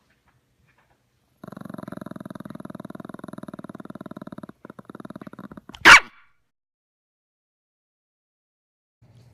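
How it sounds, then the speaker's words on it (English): A wife's dog growls in a steady, buzzing rumble for several seconds, pauses briefly, then lets out one sharp, loud bark up close before falling silent. "My wife's dog really doesn't like me."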